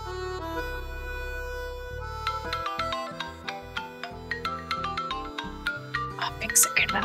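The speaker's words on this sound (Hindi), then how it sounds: "आप एक सेकेंड मेरा फोन उठाइएगा।" A mobile phone ringtone plays at a wedding preparation: a steady sustained electronic tone, then a bright rhythmic melody of chiming notes that grows busier toward the end.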